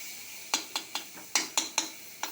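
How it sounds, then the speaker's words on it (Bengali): A spoon scrapes and knocks against a cooking pan as tomatoes and spices are stirred, giving a series of about eight sharp, close clacks spaced unevenly over a faint sizzle. "টমেটো দিয়ে নাড়াচাড়া করে তারপর জল দিয়ে দেব"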